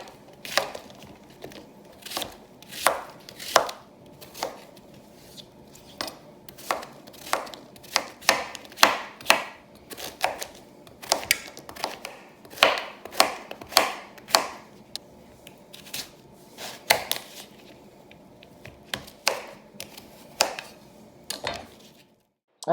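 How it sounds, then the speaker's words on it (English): Zucchini and squash being chopped into bite-sized chunks on a cutting board, a steady run of crisp knife strikes in quick uneven bursts, close and fairly loud, with no talking. "We're just going to get started by cutting up all of my zucchini and squash."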